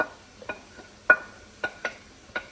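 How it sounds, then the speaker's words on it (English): Cooked Italian sausage tumbled back into a pan and stirred, giving a handful of separate soft scraping strokes against a faint, steady sizzle, with nobody talking. "we're gonna throw all the cooked Italian sausage right back in"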